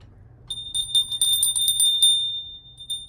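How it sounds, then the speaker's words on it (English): A bright electronic chime bell, an Apple bell sound, rings in a cluster of shimmering strikes before a lesson, with no talking over it. "Felt like we needed a bell to start."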